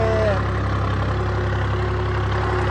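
A Holland 3630 tractor engine held at about 1500 rpm, a loud, steady low-pitched diesel drone that stays constant throughout.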